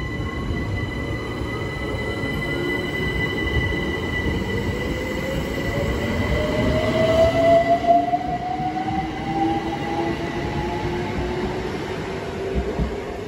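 Class 465 electric trains passing at Bexley, a rumbling roll of wheels on track with a rising electric motor whine and squealing, building louder toward the middle then easing off, no voices.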